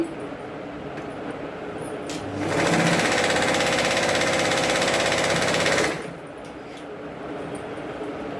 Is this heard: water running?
no